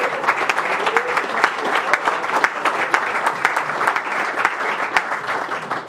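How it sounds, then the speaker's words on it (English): A crowd applauds a high school lacrosse team at a county fiscal court meeting, with steady, dense clapping that stays loud and even for the whole span without any talk over it. "Give it up, you guys."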